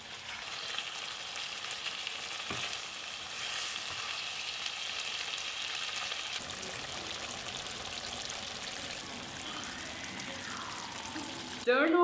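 Goat brain and gravy frying in a pan in a village-style kitchen, a steady crackling sizzle running throughout with a pour of liquid and some background voices.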